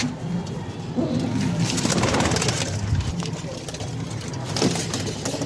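Pigeons of a home-bred line cooing in a loft, several soft throaty coos rising and falling over a few seconds, close by, with someone talking over them.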